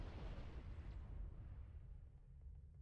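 A grenade blast in Halo: Combat Evolved: a loud, deep, rumbling boom that fills the whole clip, with a long, heavy low-end roar slowly easing off.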